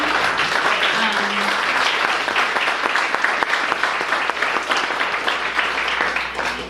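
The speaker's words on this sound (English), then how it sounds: "I would just like to give the SEAL board a big round of applause for taking this on" A room of attendees at an environmental leadership network's annual meeting gives a loud, sustained round of applause, thick continuous clapping that holds steady for several seconds with a low hum underneath.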